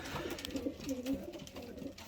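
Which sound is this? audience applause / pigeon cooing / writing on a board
pigeon cooing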